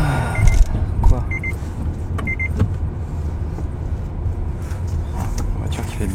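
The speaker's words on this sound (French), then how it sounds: "La voiture qui fait bip bip encore." A car gives several short, high electronic beeps in separate bursts over a steady rumble of traffic and engine noise, with some brief clunks and rattles nearby.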